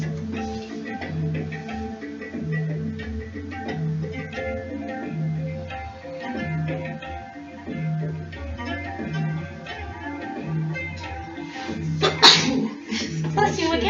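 A single sharp sneeze bursts out late in a yoga class, brief and fairly close, over a steady rhythmic backing track of pulsing low music.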